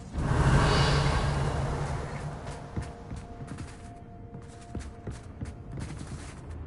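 A Bombarda blasting spell in Hogwarts Legacy bursts loudly at the start, a broad explosive whoosh that fades into a low rumbling tail with faint clicks and a thin hum.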